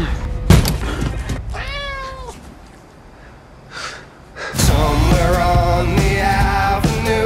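A street cat gives a long wavering meow, framed by sharp snorts and breaths in a film trailer. A swelling music score then comes in and fills the rest.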